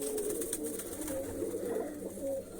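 Pigeons cooing softly and repeatedly while being fed grain, a low, faint murmur close by with no talk.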